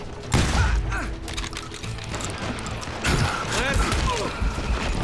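Gunfire erupts in a street during a Wild West shootout in the video game Call of Juarez: Gunslinger, with repeated sharp shots and clattering impacts over a busy mix, while voices talk and shout throughout.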